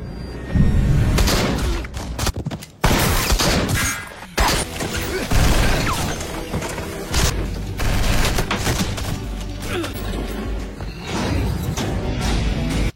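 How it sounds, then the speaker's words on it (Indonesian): A gunfight inside a hospital in a police action film, loud close shots and bursts scattered across the scene with crashes and impacts between them, no voices. "Salah satu polisi memergokinya dan terjadilah baku tembak di sana."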